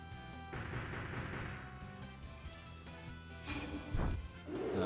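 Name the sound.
Dark Cannon attack firing in video game Disgaea: Hour of Darkness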